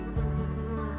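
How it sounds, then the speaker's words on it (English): Native bees buzz around strawberry blossoms in a farm field, a steady close droning hum with a slight rise in pitch partway through. "Native bees crawl deeper than honeybees, creating more complete pollination and better-shaped berries."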